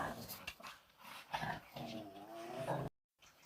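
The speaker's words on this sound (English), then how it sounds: "my dogs are barking" A dog barks and growls nearby in a few short, agitated bursts, then the sound cuts out briefly before a little more noise returns.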